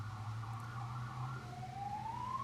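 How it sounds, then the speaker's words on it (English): A distant emergency siren wails outside, its tone sliding low and then rising again, faint beneath a steady low hum. "there's that siren"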